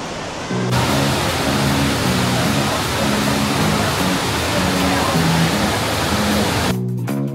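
A waterfall at Shifen, Taiwan roars as a loud, steady broadband rush that fills nearly the whole stretch, starting abruptly and cutting off near the end, with faint voices partly buried beneath it.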